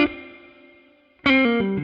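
Electric guitar played clean through a Dumble ODS amp capture with spring reverb: a single sustained chord rings and decays, then a second chord strikes loudly and sustains with shifting notes, no talk.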